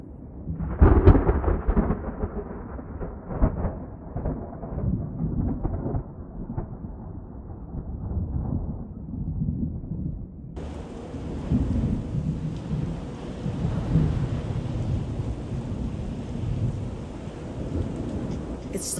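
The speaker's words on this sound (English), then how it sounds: "It's the first thunderstorm this year." A thunderstorm with rumbling thunder and rain, the deep roll building early and fading into a steady, dense hiss of rainfall that continues to the end, with no one speaking.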